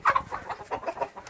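Chickens and young roosters clucking inside a coop as a hen is walked back in after juveniles tried to mate with her; several short, close clucks come in an uneven series with no talk over them.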